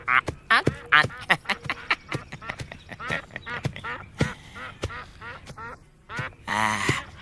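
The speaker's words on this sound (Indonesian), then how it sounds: "Nini Maisin, saya bawakan burung meliwis sama jamur barat." Meliwis whistling ducks quack in a dense, overlapping chorus, a steady run of loud, close calls with short bursts and some louder harsh honks near the end.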